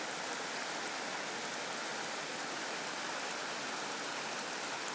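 River Veal in the Aboboreira mountains of Portugal, a steady, dense broadband rush of flowing water filling the scene without pause.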